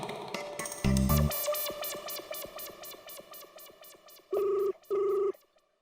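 A phone's electronic ringtone warbles repeatedly, followed by two short loud buzzing rings, then stops.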